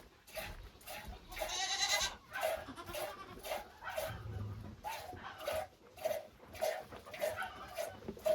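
Repeated short bleats from a goat on a Ukrainian farm come in a quick, uneven rhythm, close by, with light rustling and scuffing in between.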